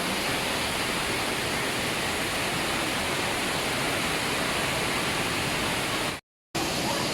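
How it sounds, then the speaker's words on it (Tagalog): Continuous rushing of an artificial indoor waterfall in Singapore, a steady broad splashing roar close by, briefly cut off near the end. "Hanggang sa baba yung bagsak ng tubig."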